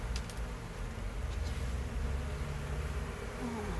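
Honey bees buzz in a steady, close swarm during a bee removal at Villa Moss Farms, the droning hum continuous throughout with a few brief clicks near the start and no talking.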